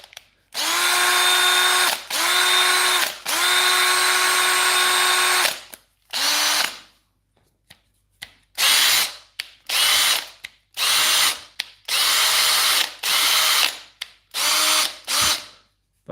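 A Makita cordless power drill whirs in several bursts, a long steady run first, then a series of shorter revving spurts with brief pauses between them, close and loud.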